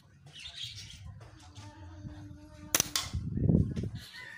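A single sharp crack comes from a Sniper Ngesot 335 air rifle shot striking a target about 20 meters away, with a short impact burst after it and birds chirping softly around.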